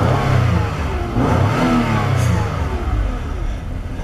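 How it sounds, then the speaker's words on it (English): A 2004 Jaguar X-Type engine revs up as the gas pedal is pressed, a loud, close throaty rise and fall of rpm that swells twice and settles, heard alone without talk. "Now we're gonna kinda actuate the gas pedal to see what happens."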